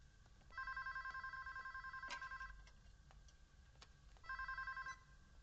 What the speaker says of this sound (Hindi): माँ, फोन उठाओ।